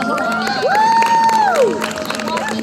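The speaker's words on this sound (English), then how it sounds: "let's give another big round of applause for Megaforce Yellow Cheetah, Sierra" Audience at a Power Rangers fan Q&A event cheers and shouts, with whoops and a rising, sustained voice over steady crowd noise and some clapping, fairly loud and close throughout.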